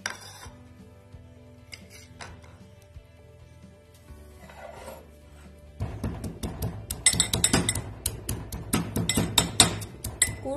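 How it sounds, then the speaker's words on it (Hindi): Curry leaves, ginger and green chilli pounded for Rajasthani pitod sabzi, heard as a run of sharp clinking, knocking strikes that start quietly and then turn loud and rapid in an uneven rhythm, close up with no talking. "अब हम हरे मसाले हैं वो कूट लेते हैं"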